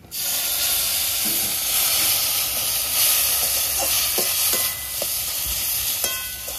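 Ground paste of ginger, garlic, green chilli and dried chilli hits a hot pan, giving a loud, bright, continuous hiss and sizzle close up, with a few faint stirring knocks toward the end.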